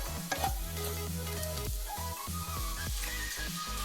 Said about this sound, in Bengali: ভেজে রাখা ফুলকপি দিয়ে দিলাম এবং সেটা মশলার সাথে কষে নিচ্ছি